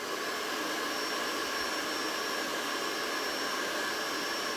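A dryer blows cold air onto a craft snowman, giving a steady, loud, close-range whoosh with a constant whine that holds level the whole time.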